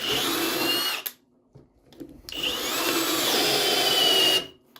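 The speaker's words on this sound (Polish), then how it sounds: "Nie no, opory są potężne, aż wkrętarkę chcę wyrwać z rąk." Yato YT-82797 cordless drill driver drilling under heavy load in first gear, with a loud straining whir. It runs in two bursts, a short one and then a longer, steadier one, separated by a brief pause.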